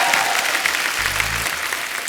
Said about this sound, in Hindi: एक बार जोरदार तालियां जॉन और दिव्या के लिए